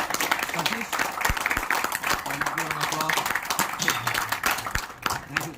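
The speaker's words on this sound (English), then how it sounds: "I think we should all give a round of applause for the team last year" A crowd at a BNI leadership gathering applauds last year's team, a busy, crackling patter of clapping that runs the whole stretch while a voice keeps talking over it.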